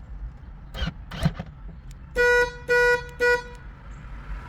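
Three short electronic chirps from a car's lock system sound as the back hatch is opened with a FlashFob remote key programmer, preceded by a couple of faint clunks, heard nearby outdoors.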